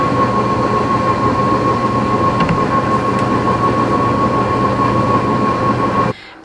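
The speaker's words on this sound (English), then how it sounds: "this oven, it makes the most awful whirring noise while you're cooking" A kitchen oven makes a loud, steady whirring drone with a constant high whine while cooking. It runs unbroken for about six seconds, then stops abruptly.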